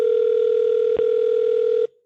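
A steady, loud telephone dial tone hums alone for nearly two seconds while calling a Kansas City barbecue restaurant, then cuts off abruptly.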